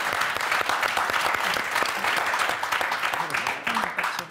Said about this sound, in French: Et on applaudit très fort Maude et Pauline